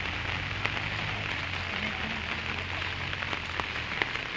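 Steady rain falls around a fishing spot, a dense continuous patter with a few sharper drops standing out, fairly loud and unbroken, with no voices.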